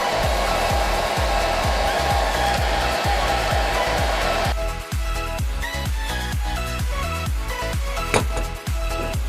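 A hair dryer blows with a steady, loud whoosh while rapid clicking taps pulse underneath throughout, the airflow tone shifting midway.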